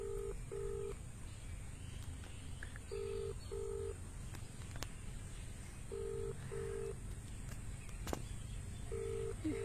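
A phone ringback tone repeats in paired beeps with short gaps, a steady unanswered ring playing over a faint background hum.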